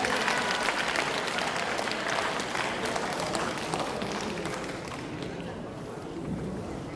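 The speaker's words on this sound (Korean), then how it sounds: "여러분 다시 한번 큰 박수 부탁드리겠습니다" Audience applause in the hall at a humanities lecture forum at the Andong arts centre, a broad wash of clapping that starts full and slowly thins and fades toward the end.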